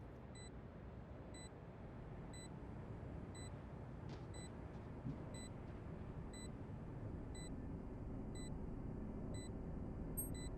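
Planted spike in Valorant giving off steady, evenly spaced high beeps about once a second, thin and moderately clear above a constant low rumble of game ambience, with no voices.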